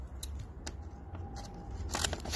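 Scissors cut into folded paper card while a chick-shaped greeting card is being made, giving a few faint, close snips and rustles over a quiet background.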